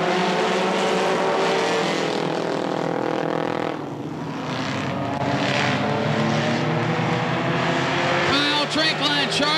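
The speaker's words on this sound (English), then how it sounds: "Green flag is out. We are racing." Race cars roar around the oval at Tri City Motor Speedway, a loud, dense wall of engine noise with rising and falling pitches as cars pass, briefly dipping before surging again, under a track announcer's commentary.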